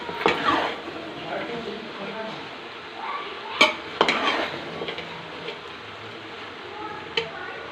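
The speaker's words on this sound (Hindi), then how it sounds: "इसको अच्छे से मिक्स कर लेंगे" Boiled spaghetti and macaroni stirred in a pan, a soft background sizzle under scattered scrapes and sharp clinks of a utensil against the pan, with some voice in the background.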